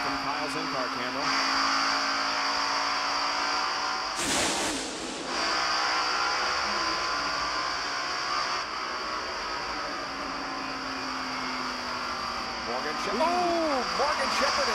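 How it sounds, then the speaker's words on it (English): In-car camera audio from a NASCAR stock car at the 1990 Southern 500 at Darlington Raceway: a loud, steady engine drone runs the whole time, with a brief louder burst midway and some pitch sweeps near the end, while commentators talk over it. "Once again from Kyle's in-car camera"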